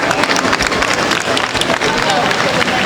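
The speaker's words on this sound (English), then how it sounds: "could I just get a round of applause for the children who are just going to come off stage" Audience clapping at a public event as children leave the stage, a busy close-up patter of hands mixed with crowd murmur and movement, loud and continuous over a few seconds.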